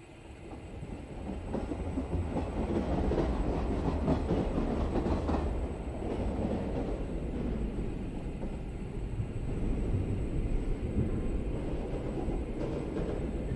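A Chennai AC suburban local train running between Tambaram and Tirusulam, a steady loud rumble of wheels on rails with rhythmic clicking and a faint high whine heard from inside the carriage, with no talking.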